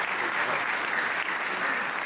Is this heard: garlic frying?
no